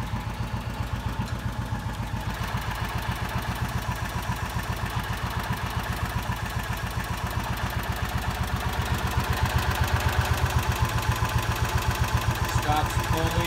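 A John Deere Gator utility vehicle's engine idles close by with a rapid, even clattering pulse that stays loud and steady, swelling slightly near the end.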